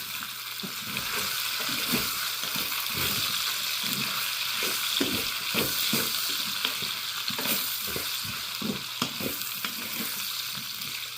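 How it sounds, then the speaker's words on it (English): Potatoes fry in a pan, sizzling continuously while a utensil stirs them with repeated scraping strokes in an uneven rhythm, close and clear, no speech. "let me stir the potatoes"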